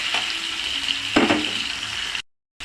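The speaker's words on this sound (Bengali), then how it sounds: "একটু চিংড়ি মাছগুলো তেলের ভিতরে ভুঁড়ে খুব সুন্দর একটা ফ্লেভার এবং স্যান্ডউইচ হয়।" Prawns frying in oil give a close, steady sizzle, with a louder burst of crackle as they are stirred midway before the sound cuts out briefly; no talking.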